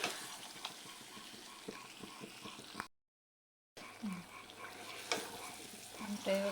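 Sweet mango pickle with sugar stirred in a pan as it cooks down, a soft sizzle with spatula scrapes and knocks, close and quiet, broken by a brief silent gap.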